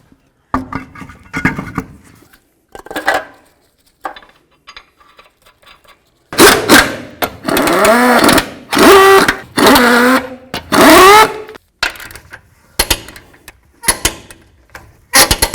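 A power wrench spins and hammers lug nuts onto a wheel of a 2002-09 Dodge RAM 1500, starting with faint scattered clicks and then a loud run of close, rattling impact bursts in quick succession.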